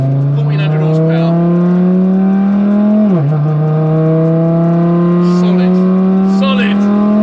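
A 1400 bhp Audi TTRS engine pulling hard while driving, a loud rising drone heard from inside the car that dips briefly at a gear change and then climbs again, with people talking over it.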